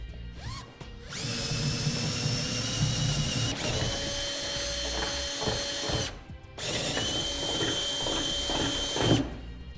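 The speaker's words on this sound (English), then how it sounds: "drill out our holes to a 1/2-inch drill bit" A power drill with a 1/2-inch bit grinds steadily through metal in two long passes, a continuous whining bite with brief pauses between holes, installing a fifth wheel hitch on a 2004 Ford F-350 Super Duty.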